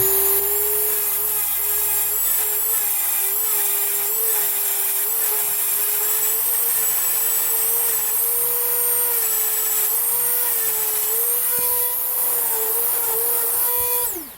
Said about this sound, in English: Then I'm going to use my Dremel tool and carefully try to grind the excess off this.